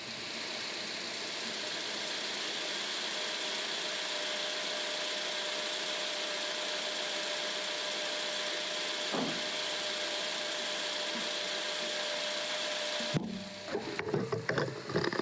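A restored car engine idles steadily and evenly for a long stretch, close and alone, then a burst of clattering and knocking noises cuts in near the end.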